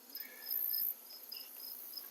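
Honeybees buzzing at an open hive during an inspection for varroa mites, a steady faint high hum with a few brief louder swells close by.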